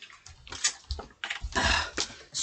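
Filtered water running and splashing irregularly, close by and fairly faint, in uneven bursts.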